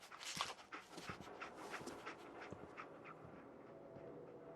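Dogmeat, the dog companion in Fallout 4, pants and sniffs close by in quick, soft breathy bursts, loudest at the start and then settling into a quieter steady rhythm.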